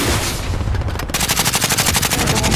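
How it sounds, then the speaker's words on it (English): Rapid automatic gunfire in a multiplayer shooter game, a dense burst that gives way to a steady, loud, evenly spaced stream of shots. "Oh, they're shooting at us from here."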